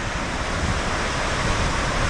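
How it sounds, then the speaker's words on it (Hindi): A powerful waterfall near Kalimath on the Kedarnath route pours fast, high-pressure water in a loud, close, unbroken roar that fills the whole moment without pause. "यहाँ का पानी का बहाव देखिए, कितना तेज प्रेशर से पानी आ रहा है।"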